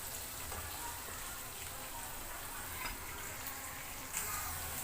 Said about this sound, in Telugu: ఇది గోల్డెన్ కలర్ వచ్చేంత వరకు వేయించుకోవాలి